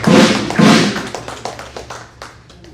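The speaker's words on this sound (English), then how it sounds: "Please can we clap for him?" Audience clapping for an award recipient at an investiture and induction ceremony: a couple of loud bursts of claps at the start, then scattered, thinning individual claps that taper off.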